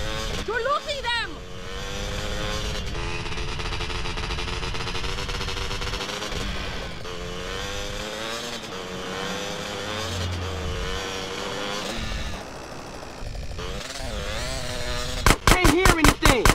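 A car in GTA San Andreas drives with a steady engine hum during a liquor store mission, under near-constant in-game talk and music, with revving changes and a burst of rapid gunfire near the end.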